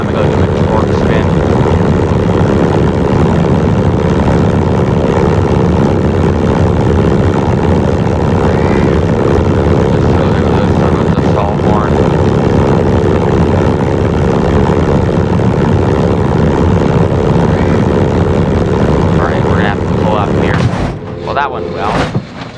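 A propeller airplane in the BeamNG driving game roars loudly and steadily during a torque spin, its engine drone continuous for about twenty seconds before breaking up abruptly near the end.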